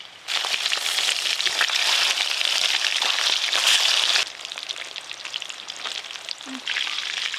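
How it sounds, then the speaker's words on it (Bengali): Hilsa fish pieces fry in hot oil in a pan with a loud, dense, steady sizzle. The sizzle eases slightly partway through and then carries on without a break. No one speaks. "ইলিশ মাছগুলো ভালো করে ভাজা হয়ে গেল।"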